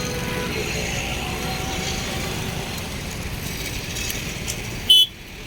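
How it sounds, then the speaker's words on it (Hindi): Heavy Delhi traffic rumbles steadily with engines and a dense wash of road noise, then a short, loud car horn blast cuts in near the end. "क्या बहुत ट्रैफिक है भाई, बहुत ट्रैफिक है, बहुत ट्रैफिक है।"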